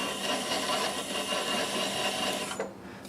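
Wood lathe spinning a heavy apple wood bowl with the speed being turned down, a steady close mechanical whir with a faint high tone that drops away abruptly near the end.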